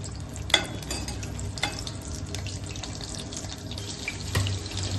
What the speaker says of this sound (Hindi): इसमें भिंडी फ्राई करूंगी।